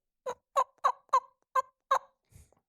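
A hunter works a turkey call to provoke a gobbling tom, producing six short, evenly spaced yelping notes, close and clear, followed by a faint scuff.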